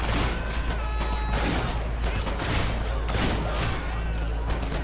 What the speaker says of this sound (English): Whoa, who's shooting me? Oh, is that the cop?